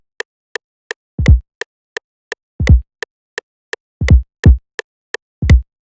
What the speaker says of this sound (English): I literally only have the kicks though, and it just sounds like this.